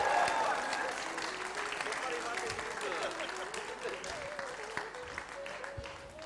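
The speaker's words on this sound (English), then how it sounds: "Let's give him a round of applause." Wedding guests applaud the groom during an auspicious wedding ceremony, a steady wash of clapping with cheers and voices mixed in, loudest at the start and holding evenly throughout.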